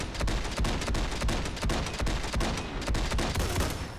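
An AA12 prototype assault shotgun fires in Fallout 4, a rapid, loud, continuous stream of automatic blasts, each shot cutting sharply through the next in a dense fusillade.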